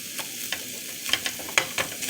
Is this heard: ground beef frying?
yes